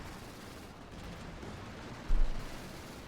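A Panther tank fires on a Centaur tank in Company of Heroes 2, one heavy boom rising out of a dense rumbling battlefield bed and fading over a second.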